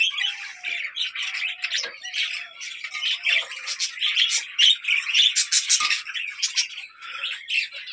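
A caged pet bird, a hen that has laid three eggs, squawks and chirps up close in rapid, uneven bursts of harsh calls, loud and alone with no talk.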